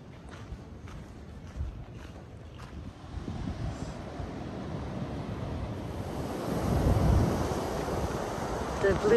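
Ocean surf rolls in on an overcast beach below a Santa Barbara resort trail, a steady wash that swells louder toward the end, with wind buffeting the microphone throughout.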